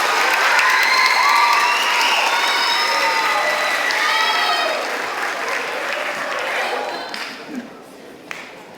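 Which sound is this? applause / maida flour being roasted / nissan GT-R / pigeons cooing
applause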